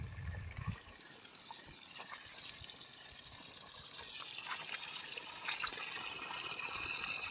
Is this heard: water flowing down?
yes